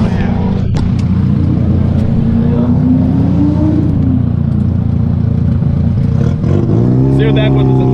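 Engine of a big-turbo VW Jetta running around 29 pounds of boost at a Powercruise 2018 roll race, a loud close continuous drone that rises in pitch at the end, with talking under it.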